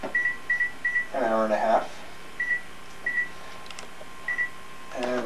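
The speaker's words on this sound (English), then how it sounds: "So now we're going to be setting our timer yet again" A kitchen timer being set while a stew with bouillon cubes simmers chirps in short, evenly spaced high beeps, a few in a row, then a pause and more, with someone talking in between.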